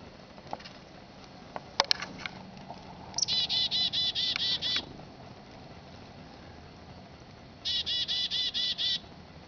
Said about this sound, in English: Chickadee dee dee dee dee dee.